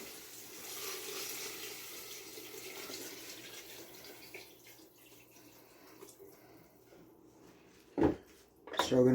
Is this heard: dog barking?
no